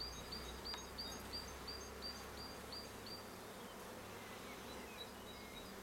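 Honeybees buzz at a beehive in late April, a steady low drone of many insects close by, with faint bird chirps in the background.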